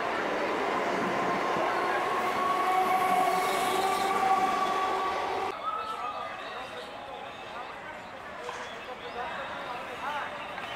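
A train rumbles and screeches along rails, loud with a squealing whine, then the noise abruptly drops to a quieter steady rolling hum at the old-fashioned Taki railway station in India.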